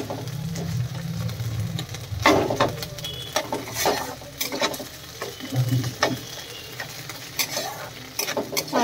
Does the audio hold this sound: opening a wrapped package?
no